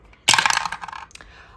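Dice clattering as they drop onto a hard surface: a sudden burst of rattling impacts that tumble and fade over about a second, then one last small knock.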